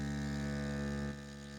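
A DeWalt 20V GRABO battery vacuum lifter pump runs on plywood, giving a steady close electric motor hum with a constant tonal whine that drops slightly in level near the end.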